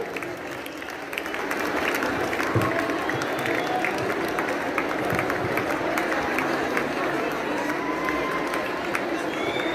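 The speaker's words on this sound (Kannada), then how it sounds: "ತಮ್ಮ ಚಪ್ಪಾಳೆ ಅವರನ್ನ ಸ್ವಾಗತ ಕೋರಲಿ" A college audience at a Karnataka Rajyotsava function in Harugeri applauds steadily to welcome a guest, a dense continuous wash of clapping that swells after the first second and holds evenly throughout.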